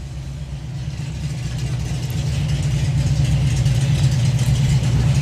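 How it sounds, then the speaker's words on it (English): A supercharged hot rod from the Supercharged Outlaws drag racing class, with a Whipple blower under the hood, idles with a steady deep rumble that grows slightly louder and more present as it continues at a hot rod drag event. "Andy Park, running in Supercharged Outlaws. Yeah, he's got a Whipple blur squeezed underneath the hood there"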